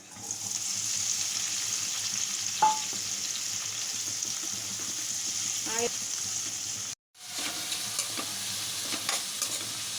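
Capsicum pieces, cut and seeded, fry in oil with a steady broadband sizzle through most of the stretch, broken by a brief silent gap and a few stirring scrapes, with no voice.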